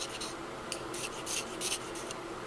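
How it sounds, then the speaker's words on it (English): A knife scrapes an oboe reed down the channels to remove bark, close and soft, in a quick series of short rasping strokes with brief pauses between them. "Maybe 10 dozen scrapes right down the channels"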